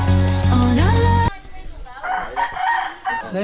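A rooster crows once, loud and close, its long call ending abruptly and giving way to softer clucking and background noise.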